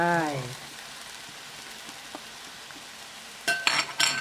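Stir-fried eggplant is tossed in a pan with oyster sauce, Maggi sauce, seasoning powder and salt. A soft sizzle runs under a few sharp scraping stirs near the end, and a voice is briefly heard at the start.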